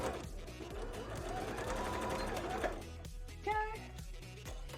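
A sewing machine stitches through layers of bra fabric in short, quick bursts of rapid mechanical clatter, fairly faint, with pauses and a soft spoken word between runs.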